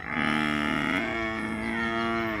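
A buffalo lets out a single long, loud, close moo with a rich droning tone that holds steady and slowly fades.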